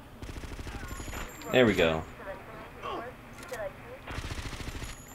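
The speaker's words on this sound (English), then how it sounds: "I was gonna use a machine gun, but I didn't have very many bullets." Machine gun fire in GTA: Vice City: short rapid bursts of shots, loudest in the middle, with game noise around them and someone talking briefly over the sound.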